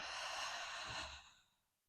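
A single long, audible exhale during a guided exercise session, breathy and close, tapering off into near silence.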